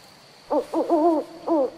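An owl hoots four times in a quiet forest: three quick calls in a row, a short pause, then one more, fairly close.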